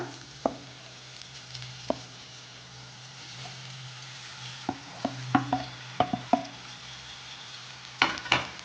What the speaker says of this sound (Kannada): ಸೊ ಇವಾಗ ಇದನ್ನು ಕೂಡ ಚೆನ್ನಾಗಿ ಮಿಕ್ಸ್ ಮಾಡೋಣ